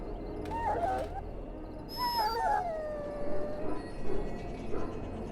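An injured dog in the Dragon Age Origins video game whimpers and lets out several drawn-out, wavering howls, mournful and close, spaced across the stretch over a low background hum.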